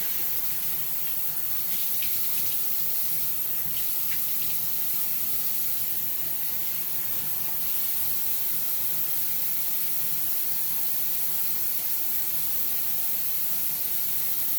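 Water running steadily from a tap for rinsing, a constant even hiss and splash that continues unbroken at moderate level.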